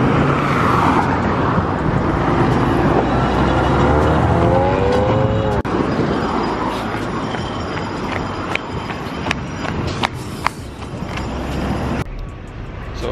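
Road traffic passes through busy Half Way Tree, Jamaica on a sunny day: vehicles roar by near and far, engines rise and fade, with horn-like tones and sharp knocks in a continuous street din.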